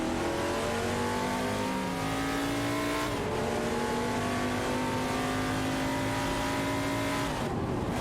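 Race cars in an AI racing video game rev and accelerate loudly and continuously, with engine pitches climbing through gear shifts and several cars overlapping as they pass.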